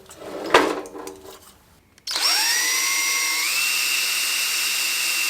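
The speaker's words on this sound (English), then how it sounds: "I'm going to swing this down out of the way while I drill these holes." A drill press bores holes into a hollow metal casting. Some knocking and handling comes first, then the motor starts and drills with a loud, steady ringing whine that shifts pitch partway through.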